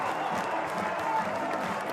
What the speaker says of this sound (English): Gets the crowd and the dugout into a frenzy.